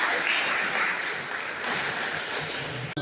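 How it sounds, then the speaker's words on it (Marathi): A seated audience claps steadily for about three seconds at a Khashaba Jadhav Medal Day felicitation event, a dense even patter of many hands ending with a single sharp tap. "तर टाळ्या होऊ द्या."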